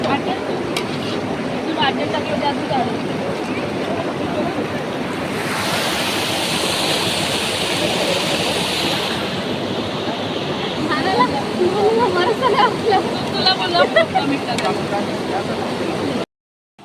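A steady rush of a flowing river fills the whole stretch, with voices faintly audible over it toward the end.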